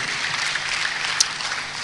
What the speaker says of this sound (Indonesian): Tepuk tangannya balai meriah buat Allah kita.